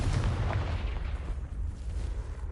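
A Confringo blasting spell in Hogwarts Legacy goes off as a loud, booming explosion with a heavy low rumble that fades over a couple of seconds.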